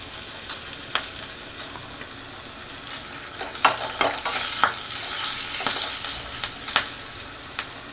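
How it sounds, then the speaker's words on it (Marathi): Green chillies, red chilli powder, asafoetida and curry leaves fry in the tempering oil for a dal, giving a steady close sizzle with sharp crackles and spoon-stirring scrapes that grow busier midway. No one speaks. "या दोन हिरव्या मिरच्या घेतल्या त्या घालते आणि अगदी पाव चमचा लाल तिखट"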